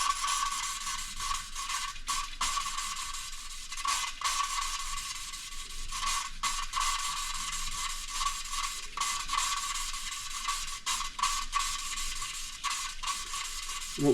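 Valve being lapped onto its seat with carborundum paste in a Land Rover Series One 1600cc engine, a steady gritty grinding and scraping with brief rhythmic breaks, close and fairly loud, with no talking.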